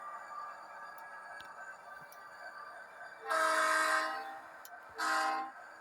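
An FP45 locomotive with the throttle opened up: a steady low rumble is broken by two loud, sustained bursts of engine roar, one long and a shorter one after it, with no talk.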